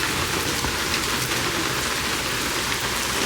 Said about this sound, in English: We're trying to figure out ways for her to make it out without getting soaked in the rain.